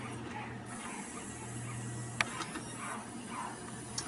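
An ELISA test machine running in a lab, giving a steady low mechanical hum and faint whir with a few sharp clicks and ticks of internal mechanisms throughout.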